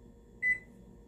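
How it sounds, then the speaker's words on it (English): A single short electronic beep from an air fryer as its air fry button is pressed, clear and isolated over a faint low background hum. "So I'm going to hit air fry."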